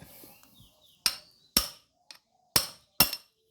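Five sharp metallic hammer blows ring out at uneven intervals, close and loud, one lighter tap among them, in an otherwise quiet space, hammering out a front wheel bearing on an Isuzu.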